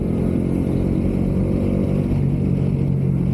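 A 2023 Bajaj Dominar 400 motorcycle engine rumbles loud and close, a deep throbbing idle with a slight rise in pitch toward the end.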